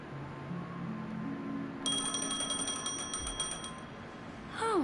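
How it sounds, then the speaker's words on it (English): In the video game Honkai Star Rail, a telephone rings with steady, bright repeating electronic tones over a quiet low ambient hum, with no talk over it. "A phone. Wanna listen in?"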